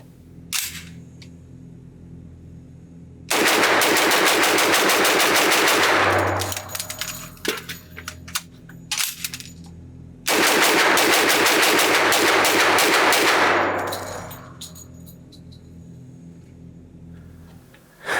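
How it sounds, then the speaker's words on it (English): A B&T APC10 Pro 10mm pistol is emptied in two long, loud bursts of rapid fire, separated by a brief pause for a magazine change, with echoing tails after each burst at an outdoor range. "I'm going to try to load up one of these magazines, dump it as fast as I possibly can, do a quick magazine change"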